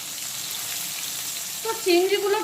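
Prawns fry in hot oil with a steady, close sizzle and crackle throughout; a voice briefly joins near the end.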